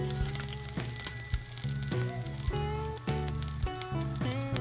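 Sliced garlic frying in oil in a pan while making steamed pompano with soy sauce, a steady close sizzle that runs throughout beneath louder background music.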